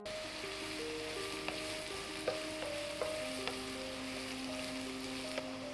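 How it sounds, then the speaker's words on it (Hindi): Chopped onions sizzle and fry in hot oil for palak paneer, a steady crackling hiss broken by a few light clinks as a spoon stirs the pan. "अब हम इसमें प्याज डाल लेते हैं और इसे चला लेते हैं।"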